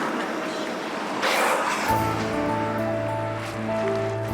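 Rough surf breaks at Spirits Bay in a broad, steady wash of noise, with a low engine-like hum setting in partway through and holding beneath the roar.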